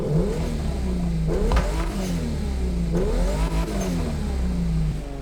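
Stock Toyota Supra engine from the racing game The Crew Motorfest revving loud and close, two strong upward sweeps falling back to a steady idle-like drone.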